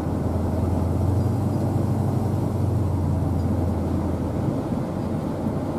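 A 1966 Pontiac Tempest A-body on a chilly day, heard as a steady low engine and road rumble from inside the cabin, loud and continuous with a slight drop near the end.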